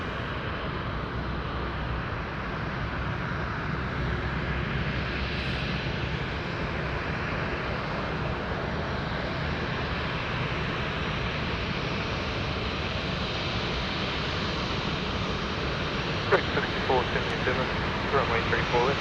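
A jet aircraft at Sydney Airport at night gives a steady, loud roar that holds evenly throughout, with faint voices or radio chatter briefly audible near the end.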